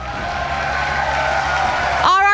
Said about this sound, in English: But IOI Convention Center, join me in giving RRQ Hoshi a round of applause